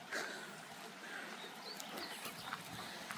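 Warland Creek flows with a steady, moderate rush of water heard fairly near, with faint bird chirps over it.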